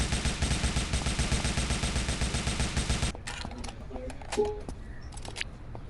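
Rapid automatic gunfire from an Android GTA-style video game, a dense regular burst of shots lasting about three seconds, then stopping abruptly, followed by quieter game sounds and scattered clicks.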